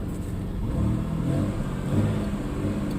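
A Chrysler Sebring 2.5 engine idles with its dual-tip exhaust, a low, steady, quiet rumble that stays close and even throughout, with a faint fan whir behind it and no talking.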